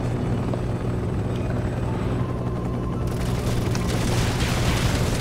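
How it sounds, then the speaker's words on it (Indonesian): Steady, dense rotor and engine roar of a helicopter flying in Resident Evil 6, loud and continuous throughout, with no talking. "Nyetir helikopter nih"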